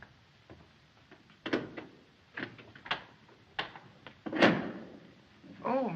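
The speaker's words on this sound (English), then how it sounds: "Max, open the door." A door is opened in a 1937 mystery-thriller film, heard as a series of close, distinct knocks, clicks and latch clatters with a louder thump near the end, alone with no talk.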